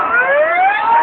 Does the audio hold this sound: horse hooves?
no